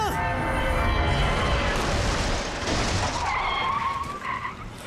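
A car skids with a loud, sustained tire screech that sweeps and wavers, heavy rumbling beneath, then fades into a quieter squeal near the end.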